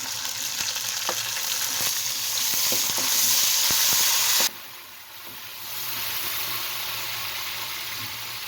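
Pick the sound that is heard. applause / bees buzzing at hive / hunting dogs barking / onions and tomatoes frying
onions and tomatoes frying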